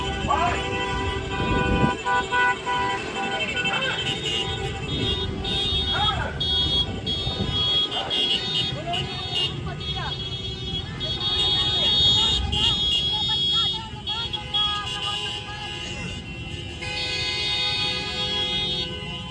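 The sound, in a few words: cars honking horns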